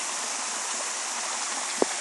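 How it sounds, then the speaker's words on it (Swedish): A stream pours down into a pool out in nature, giving a steady, even rush of water with one brief knock near the end. "Här rinner vattnet ner till en pool"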